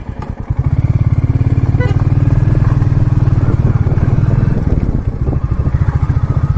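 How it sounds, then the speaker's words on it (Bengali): A motorcycle on a bike trip to Jhargram climbs uphill toward a hilltop temple, its engine loud and close with a steady throbbing pulse that strains for several seconds, then eases slightly near the end. "বাইক নিয়ে যতটা উঠতে পারি উঠছি।"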